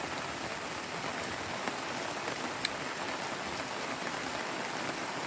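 Steady rain pours during a storm in Lake County, Michigan, a dense, continuous hiss of drops on surfaces and a canopy, with a faint tick or two standing out and no voices.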